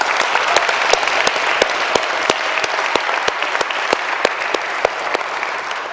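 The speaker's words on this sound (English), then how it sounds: "Can we give all the volunteers and all the organizers a round of applause?" An audience gives sustained applause for event volunteers and organizers, with crisp, closely packed claps throughout and no talking.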